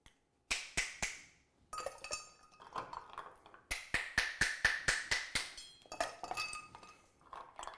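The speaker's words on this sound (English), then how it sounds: "And then we're just going to crack some ice." Ice being cracked for an El Presidente cocktail, a run of sharp close clinks and cracking taps in bursts, some fast and rhythmic, with quiet gaps between and no speech.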